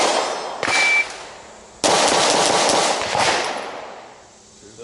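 Pistol shots crack out in a rapid shooting drill, two loud close reports a little over a second apart, each trailing off into a long ringing echo.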